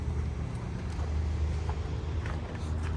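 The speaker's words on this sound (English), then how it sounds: "this is a Yanmar engine" Yanmar diesel engine on a Case CX31B compact excavator idling steadily up close, a continuous low rumble with no talk.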